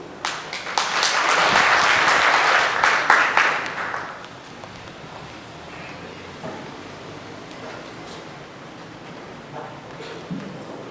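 Audience applause at a ceremony in Burkina Faso: dense, loud clapping swells for the first few seconds, then thins out into a few scattered claps under a quiet room murmur.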